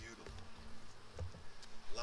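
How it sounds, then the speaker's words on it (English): Honey bees buzz softly inside a hive, a faint steady hum with brief louder passes close by. "Lots of babies and bees in here."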